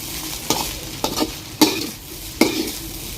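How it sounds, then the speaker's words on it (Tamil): Egg rice seasoned with soy sauce, pepper and salt is stirred in a hot pan, giving four distinct scraping strokes about half a second to a second apart over a steady low sizzle, close and clear with no voices. "இதை அப்படியே நம்ம வந்து இப்போ மிக்ஸ் பண்ணிக்க போகிறோம்."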